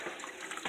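Water poured from a jar into a cooking pot while making Indian beef curry, a brief, quiet splashing gush with no voices.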